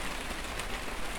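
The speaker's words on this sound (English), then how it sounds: "the rain is hitting this roof quite hard" Heavy rain drums hard on a roof early in the morning, a dense, steady hiss of countless drops that stays loud and unbroken throughout with no voices.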